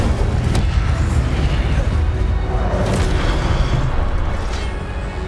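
Incendio fire spells cast in the Hogwarts Legacy video game make a dense, loud whooshing roar with booming bursts, sustained throughout and tapering off at the end.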